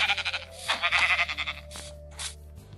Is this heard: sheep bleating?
yes